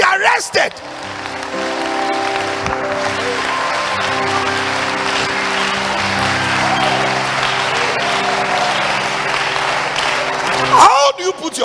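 Congregation at a Sunday church service clapping in a hall, a sustained spread of applause layered over a steady sustained tone, with a few louder bursts near the end.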